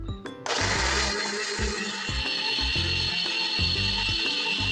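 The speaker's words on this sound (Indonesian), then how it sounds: "Kemudian ini udah siap kita blender." A kitchen blender starts abruptly and runs steadily at high speed, loud and close, its motor whine churning thick steamed sweet potato and coconut milk with rhythmic lurches.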